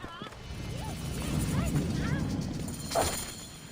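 Horses whinny with rising and falling cries amid hoofbeats in Assassin's Creed Origins, set in ancient Egypt. The sound is moderately loud and steady over a low rumbling background, with a sharper sound near the end.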